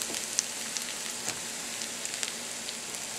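Mushrooms sizzle in a pan with onions, a steady faint crackle and hiss with a few sharper pops, and no talking over it.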